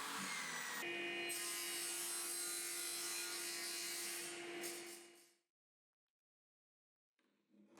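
A table saw rips through wood for fence supports on a workbench build, giving a loud, steady whining cut for about five seconds. The blade then stops abruptly into near silence before faint noise returns.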